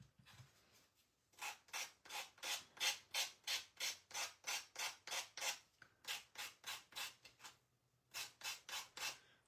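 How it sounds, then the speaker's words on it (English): Hand sanding with 80 grit sandpaper on a craft piece gives a close, rhythmic run of rasping strokes in quick even bursts, with a brief pause midway before the strokes resume. "Like I said, this is 80 grit"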